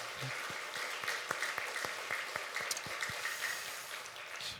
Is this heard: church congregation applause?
yes